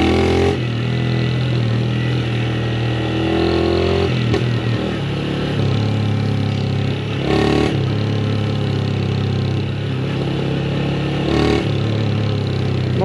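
A 2023 Start motorcycle revs hard on an off-road ride, its engine a loud, steady mid-pitched drone that swells in a few sharper bursts, with no talk over it.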